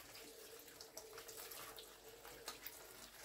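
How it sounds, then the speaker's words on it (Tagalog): Tap water runs steadily into a sink while freshly picked spinach is rinsed under it, a soft, even hiss with small splashy flickers throughout, fairly quiet and close. "Hugasan ko lang po mabuti."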